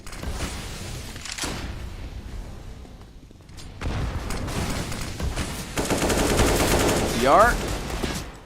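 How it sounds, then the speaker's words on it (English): Counter-Strike gunfire rattles through an esports round in bursts of rapid automatic shots and single cracks, with bullets whizzing past, some nearer and louder toward the end, and a commentator talking over it. "lots of bullets flying by him"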